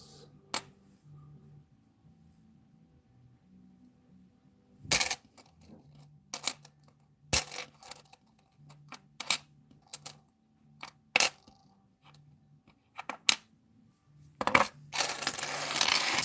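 Loose $1 coins dropping from opened coin rolls, scattered metallic clinks and rattles arriving in irregular bursts, close up, ending in a longer jingling spill.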